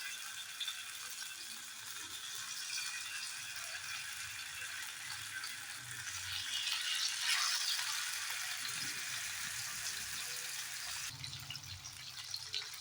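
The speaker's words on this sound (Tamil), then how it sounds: "இப்போது ஒரு ஒரு மீனாக எடுத்து நம்ம தோசைக்கல்லில் வச்சிடலாம்" Steady, fairly quiet crackling sizzle of fish frying on a hot dosa griddle, a continuous bubbling hiss that swells slightly midway, with no voices.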